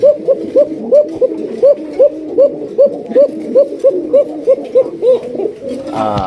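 Male Rajgolla pigeons cooing in a steady, rhythmic series of about fifteen close, clear coos, evenly spaced and loud, with a short burst of other noise at the end.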